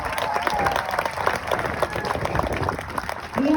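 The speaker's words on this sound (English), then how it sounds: "give a big round of applause for all of them" A crowd applauds heartily at an evening fundraiser walk for spinal muscular atrophy, with steady dense clapping and a little cheering, and voices mixed into the noise throughout.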